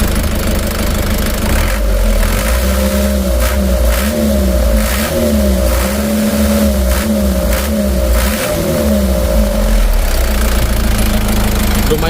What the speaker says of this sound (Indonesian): kita gas lagi